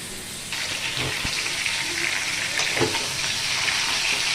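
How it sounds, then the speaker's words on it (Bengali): Meat frying in a pan for a chicken dish, a dense, continuous hiss of sizzling oil with a few utensil knocks and scrapes, close and fairly loud. "এদিকে মাংসগুলো আমার খুব ভালো করে ভাজা হয়ে গেছে"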